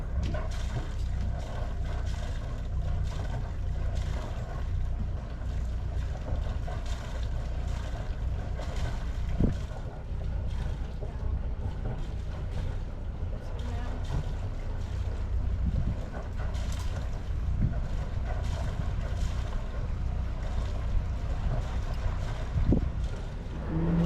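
A sailboat manoeuvres in to moor at a marina pontoon, with a low rumble, steady wind buffeting and water wash, plus a few faint knocks, and no voices.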